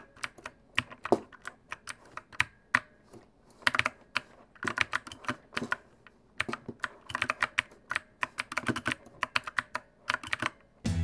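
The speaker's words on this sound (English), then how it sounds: "Here's some footage and some audio of the keyboard in action" Brisk typing on a Redragon K552 mechanical gaming keyboard, close-up clacky keystrokes in irregular bursts with short pauses, heard alone without voices.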